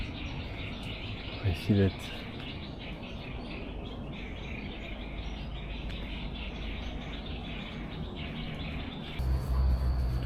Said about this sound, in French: les petits bruits d'oiseaux, c'est peut-être les fameux oiseaux dont on me parlait